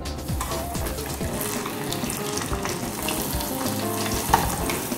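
Breaded food, dipped in egg white and breadcrumbs, sizzles and crackles steadily in hot frying oil, close and continuous with no voices.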